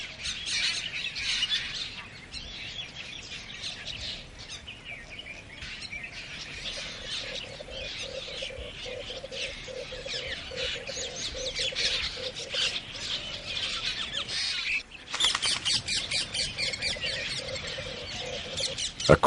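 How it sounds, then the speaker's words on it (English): A chorus of rose-ringed parakeets squawks and chirps continuously at close range at a waterhole, harsh calls overlapping with no pauses. "most of the other birds, like the rose-ringed parakeets, have to come down to the water's edge."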